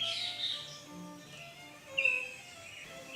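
Small songbirds and blackbirds flitting among flowers, giving faint, high chirps and tweets scattered over a soft outdoor background, with one brighter call near the middle and no talking.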